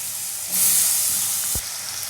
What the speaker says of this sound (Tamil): நல்லா தண்ணி வடிகட்டிட்டு கத்திரிக்காய் எடுத்து போட்டுக்கோங்க